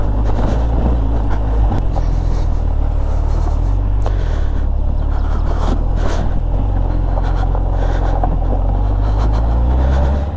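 A motorcycle rides along a hot, sunny gravel road on an adventure trail in Khakassia, its engine droning steadily and loud under heavy wind buffeting across the microphone, with no talking.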